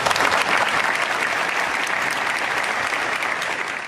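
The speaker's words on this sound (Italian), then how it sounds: "accolto con un lungo applauso al suo ingresso in teatro" Long, steady applause fills a theatre as a crowd greets the President of the Republic on his arrival, dense and continuous at full volume from start to finish.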